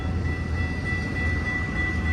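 Intermodal freight train rolling past a grade crossing, a steady, loud low rumble of rail cars with a sustained tonal whine above it, continuous and close, with no voices.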